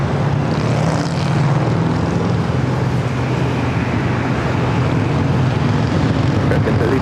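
An American Airlines Boeing 737-800 at San Diego airport makes a steady, loud roar of jet engine noise that holds evenly throughout without any clear rise or fade.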